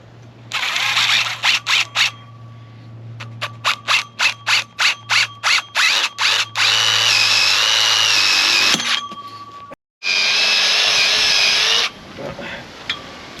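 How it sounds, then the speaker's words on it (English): A power drill drives self-tapping screws into a metal post, whirring in a string of short rapid bursts and then longer steady runs, loud and close, with a brief pause before a final sustained spin. "this post right here does not let me drill self-tapping screws into it"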